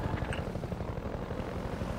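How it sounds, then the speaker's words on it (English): Rotor chop from a combat helicopter in the Half-Life 2 video game, a steady rapid thudding pulse with engine drone filling the whole stretch, loud and continuous with no talk over it. "We are now fighting this chopper."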